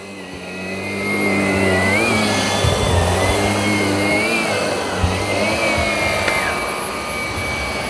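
A Shark PowerDetect IP1255 cordless vacuum runs over carpet with a loud, steady motor whine. It swells slightly after the first second and then holds, with faint bumps as it is pushed and pulled.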